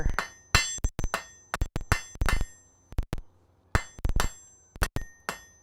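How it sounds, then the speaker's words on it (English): Sharp metallic hammer blows ring out on hot steel in irregular bursts as a taper is forged in a smithy, some quick doubles, each strike bright and clanging with short decays. "hammer out a taper."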